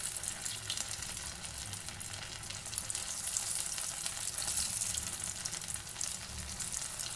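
Poha cutlets (aval cutlets) frying in hot sunflower oil on a medium flame, a steady, soft continuous sizzle and bubbling that swells slightly, heard alone without talk.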